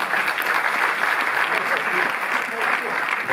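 Dense, sustained applause from a cinema audience at the Paris premiere of Claude Lelouch's film Finalement, steady and loud for the whole stretch.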